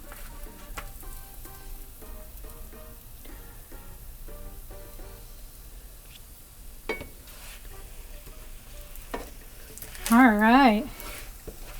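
Pork fat frying in a hot, smoking pan, a faint, steady crackle and sizzle running underneath, with brief clatters and a short spoken word from a nearby voice.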